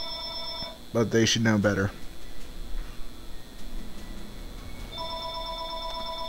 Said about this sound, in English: Disregard the ringing phone.